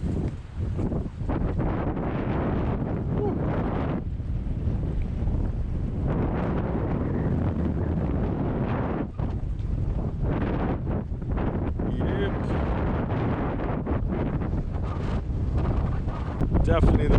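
Strong gusting wind of Hurricane Beryl in the Cayman Islands buffeting the microphone, a loud continuous roar with surging rumbles and brief lulls, no voices audible.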